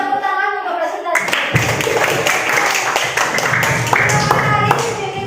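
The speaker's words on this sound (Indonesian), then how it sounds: "Mari kita berikan tepuk tangan untuk presentasi." A classroom audience breaks into dense, continuous applause for a group presentation after a brief spoken voice, the clapping loud and sustained to the end.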